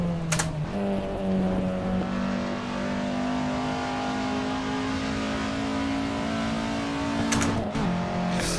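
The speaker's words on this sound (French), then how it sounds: "206 RC, le boucan qu'elle fait quand elle passe" A Peugeot 206 RC in a VR traffic mod game roars by with a steady, loud engine note that holds its pitch, a sharp click or shift near the start and again near the end.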